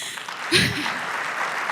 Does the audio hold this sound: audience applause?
yes